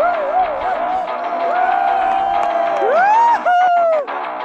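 A crowd at a village game in rural Nepal hoots and cheers, with loud rising and falling whoops and shouts from several people close by, one voice swooping high over a steady murmur of voices.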